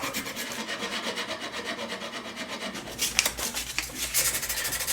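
Epoxy being cleaned off a wooden push toy, heard as steady, rhythmic rubbing and rasping strokes close by, growing louder and sharper with a few distinct scrapes toward the end.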